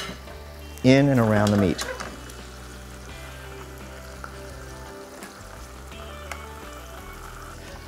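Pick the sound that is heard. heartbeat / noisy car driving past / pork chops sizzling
pork chops sizzling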